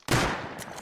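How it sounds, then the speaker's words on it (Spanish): A single sharp gunshot cracks close and loud in the video game Rust, followed by a short echoing tail. "que me disparan entre dos"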